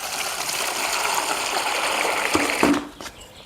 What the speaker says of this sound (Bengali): তো তারপর এইভাবে এখানে জলটা দিয়ে দিলাম।